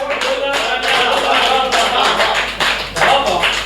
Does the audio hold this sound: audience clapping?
yes